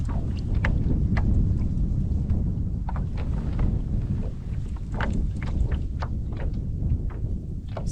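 Steady wind buffets the microphone with a low, continuous roar while kayak fishing for pike, with faint splashes and knocks scattered throughout.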